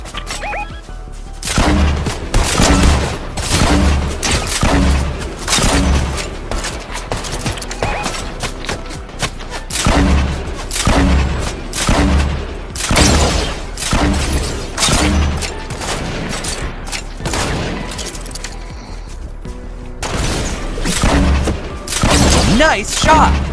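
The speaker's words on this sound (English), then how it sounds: "There's shots fired over here." Gunfire in the Fortnite video game, repeated bursts of sharp shots and impacts spread across the stretch, loud and close, with players talking and shouting between and over them.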